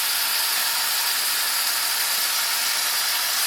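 Turkey bacon frying in a pan at an off-grid homestead breakfast, a steady close hiss and crackle of fat that runs unbroken with no voices.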